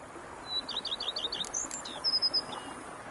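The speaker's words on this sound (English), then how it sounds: "Bees buzzing, birds chirping." Songbirds chirp in a quick run of repeated high notes, then a second short burst of calls, close and clear over faint ambient wind in the Witcher 3 Blood and Wine game world.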